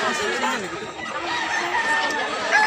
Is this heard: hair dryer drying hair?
no